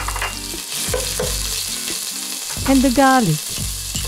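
Ginger and garlic frying in a pan of very hot oil over high heat, a steady loud sizzle with stirring scrapes, while a person speaks briefly over it.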